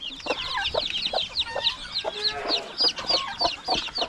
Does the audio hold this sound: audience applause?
no